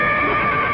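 A horse neighing, a loud sustained whinny heard up close in a brief burst.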